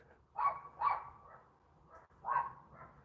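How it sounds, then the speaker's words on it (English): Dogs bark in three short bursts, two close together and then one after a pause, slightly distant and moderately loud, with no talking over them. "Dogs are having a right old go, as you can hear."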